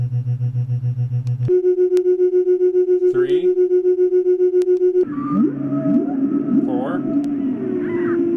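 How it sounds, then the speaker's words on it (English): A simulated mother's heartbeat on a PICTEK white noise machine, a steady pulsing low throb that repeats evenly. A tonal drone then takes over, and a voice counts over it. "this like simulates a mother's heartbeat"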